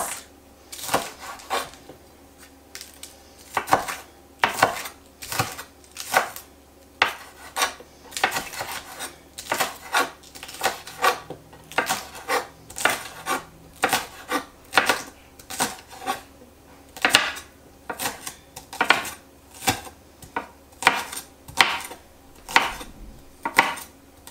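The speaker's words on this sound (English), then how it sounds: "we're just going to slice through the green onions" Green onions being sliced with a knife on a cutting board, a steady run of crisp, close chopping taps with short pauses between bursts.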